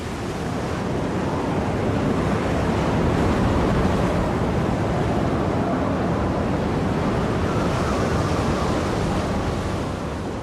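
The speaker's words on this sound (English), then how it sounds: "For 2 days, the Giant is battered by wind and sea." Wind and heavy sea battering the salvage vessel Giant during the Kursk recovery: a dense, loud, unbroken roar of surf and gusting wind that holds steady throughout, with no voices.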